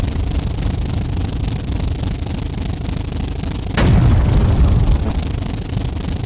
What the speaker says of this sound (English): Oh, he has started firing.